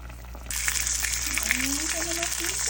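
Salmon starts sizzling and spitting in a hot pan after a quiet moment, a steady frying crackle close by.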